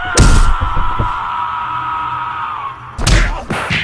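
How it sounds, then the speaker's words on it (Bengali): A staged sound effect for a stick striking someone on the head in a told story: a heavy thud opens, a sustained tonal drone follows, then a second forceful thump lands near the end. "এই বলে তার মাথায় মারল লাঠির বাড়ি"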